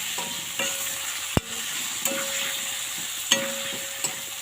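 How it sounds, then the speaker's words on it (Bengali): Spices are stir-fried in a pan, a steady sizzle under a few sharp clinks and scrapes of a spoon against the metal, close up with no voices. "আমি মশলাটাকে ভালো করে সুন্দর করে কষিয়ে নেব।"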